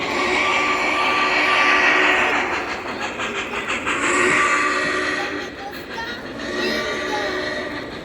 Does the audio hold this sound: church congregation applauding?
no